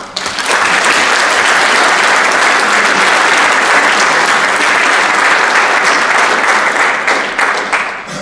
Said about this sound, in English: we could give God a great round of applause for the work that he's done for the deacons